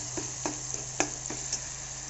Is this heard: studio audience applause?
no